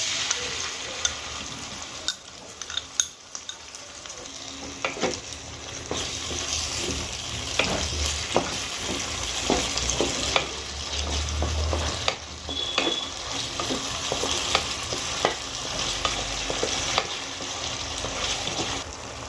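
Rohu fish gravy with beaten sour yogurt bubbling and simmering in a pan, a steady close sizzle with scattered pops and occasional stirring scrapes, no voices.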